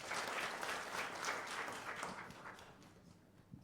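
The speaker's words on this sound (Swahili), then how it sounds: "Makofi tafadhali." Quiet, distant applause from an audience at a talk on investing in business; a steady wash of many hands clapping that slowly tapers, with no voices.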